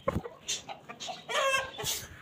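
Aseel rooster clucking in short, uneven bursts close by, with brief calls and rustling between them.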